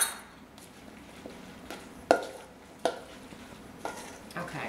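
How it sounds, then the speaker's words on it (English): A utensil stirs flour into potato pancake batter in a bowl, giving soft, wet stirring with a few sharp clinks against the bowl, quiet and close, with no voices. "I'm gonna add a little bit more of that flour just to blend this a little bit"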